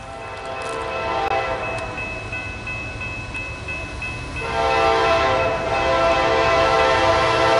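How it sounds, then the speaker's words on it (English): A train rolls past on a railroad that follows an old original route, its horn blowing in long steady tones over the continuous rumble of the cars, fairly close and growing louder partway through. "Here comes the train."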